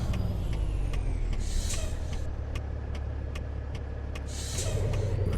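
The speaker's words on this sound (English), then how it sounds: "Is that engine brake?" A Kenworth K100 truck in American Truck Simulator runs its engine brake: a loud, steady droning engine with several short hissing bursts of air over the top.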